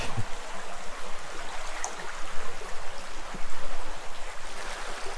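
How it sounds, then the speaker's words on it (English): Canfield Creek flows at Forestville Mystery Cave State Park in Minnesota, a steady close rush and gurgle of water that carries on without a break. "So this is Canfield Creek over here."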